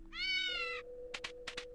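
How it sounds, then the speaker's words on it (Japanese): A cat gives one drawn-out, bright meow, followed by a few short, sharp bursts of noise, close and clear with nothing else around it. "ああ猫ちゃんまさかこんなところに"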